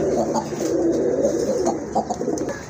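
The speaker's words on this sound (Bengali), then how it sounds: "অনেক জোরে ডাকে কবুতরটা" Pigeons coo nearby in a low, throaty, rolling murmur that continues steadily, with faint chirps and background noise mixed in.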